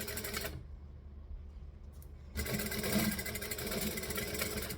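A sewing machine runs in a steady mechanical whir, stops briefly, then starts again for a second run of stitching and back stitching, close and fairly loud.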